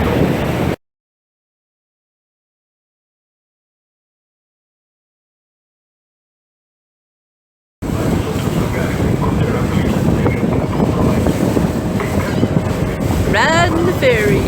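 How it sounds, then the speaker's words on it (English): Steady rumble of wind and engine noise aboard a car ferry near Galveston, with a long stretch of silence first. "Riding the ferry."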